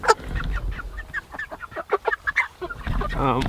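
A flock of poultry penned for slaughter the next day, with geese honking and chickens clucking and squawking in quick overlapping bursts, close and busy, ending in a louder drawn-out honk.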